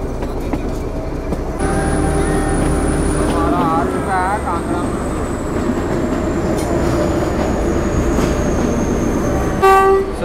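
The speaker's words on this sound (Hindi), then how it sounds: "देखिए हमारी ट्रेन पहुंच चुकी है अभी कांगड़ा मंदिर में" A Kangra Valley Railway train pulls into Kangra Mandir station with a steady rumble of wagons and a short toot of the horn near the end, while voices are heard faintly.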